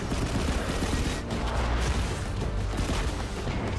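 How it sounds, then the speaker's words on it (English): Nonstop gunfire aimed at targets in the shooter game FRAG: Pro Shooter, a dense, unbroken roar of rapid shots and impacts that stays loud and steady throughout. "I'm like non-stop shooting at targets."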